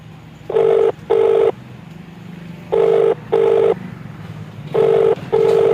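A phone's ringback tone sounds in three double-ring bursts, each pair of steady beeps separated by a short pause, clear and close with faint background hum.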